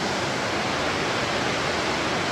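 The Gandahati waterfall roars as loud, steady, unbroken falling water close by, with no other sounds standing out.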